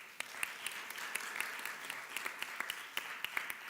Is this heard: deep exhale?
no